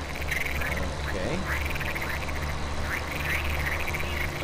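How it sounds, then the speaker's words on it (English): Ambient ducks in the Farming Simulator 2017 farming game, Gorzkowa map, give repeated nasal quacking calls at a moderate distance over a constant low machine hum, with no talking over them. "Oh, I can hear those ducks."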